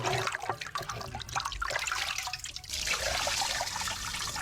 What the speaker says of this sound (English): we drain out all the old water, add fresh water, stir it really well